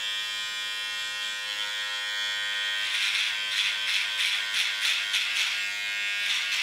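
A Panasonic I-shaper electric beard trimmer hums steadily, then its buzz roughens in rapid pulses as it cuts through beard hair held against a comb, close and loud with no talking.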